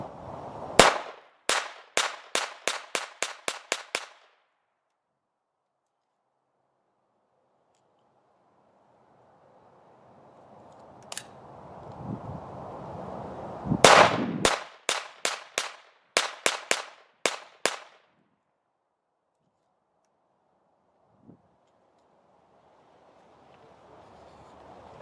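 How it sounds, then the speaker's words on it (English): A Colt rifle loaded with Remington ammunition fires outdoors in quick strings of sharp shots. One rapid string comes first, then a quiet gap with a lone shot, then another fast group, with faint wind between them. "That was 70 rounds of ammo that quick."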